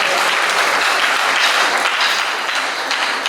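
Loud, dense audience applause at an anniversary concert fills the whole stretch, steady and close with no letup and no voices standing out.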